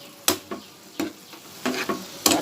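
Spice paste with meat masala and tomato sauce fries in a pan for a tangra fish rasa. A spoon scrapes through it in several separate strokes over a soft, low sizzle, close and moderately quiet, with no talking.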